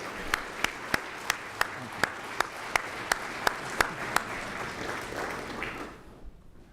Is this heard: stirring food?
no